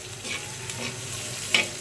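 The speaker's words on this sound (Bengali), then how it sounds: "পেঁয়াজটা আমার ভাজা প্রায় হয়ে গেছে" Onions fry in oil with five-spice seeds for a vegetarian papaya dish, a close, steady sizzle with a brief stirring scrape near the end.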